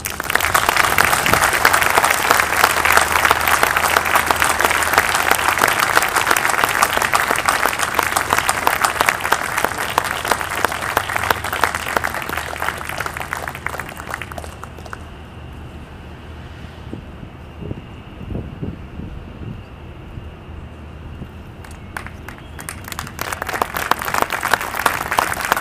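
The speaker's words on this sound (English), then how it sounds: "please join me in a round of applause for General Aldrin." A large audience gives a long round of applause for General Buzz Aldrin, dense clapping that holds strong, then thins and fades before swelling again near the end.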